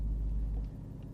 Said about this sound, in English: let's just see what happens if I stop the car and start it up again